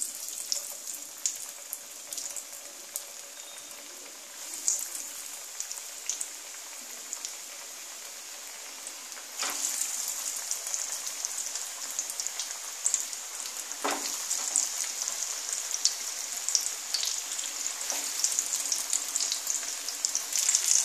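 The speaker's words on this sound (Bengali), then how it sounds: "এইবারে আমি প্যানে তেল দিয়ে দিয়েছি, বেশ ডুবো তেলে এটাকে ভাজতে হবে।" Egg chops deep-frying one by one in plenty of oil in a pan over medium gas, a steady crackling sizzle that rises louder and busier partway through, with sharp pops, close and with no talk.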